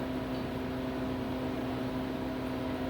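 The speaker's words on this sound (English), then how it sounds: "Our freeze dryer is ready." Home freeze dryer running, a steady low mechanical hum with a constant tonal whine and even broadband noise, faint and unchanging throughout.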